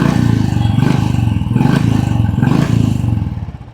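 A motorcycle with a BS4 engine idles close by, its silencer giving a loud, thumping exhaust beat with a regular, slightly lumpy pulse that fades near the end.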